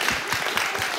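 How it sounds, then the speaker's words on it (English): A church congregation gives a round of applause, a dense, continuous wash of many hands clapping that fills the room for a second without any voices. "Can we get a round of applause?"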